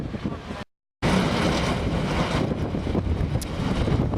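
Strong wind blowing outdoors at a race track, a loud, close, continuous roar of microphone buffeting, broken by a brief gap of silence near the start.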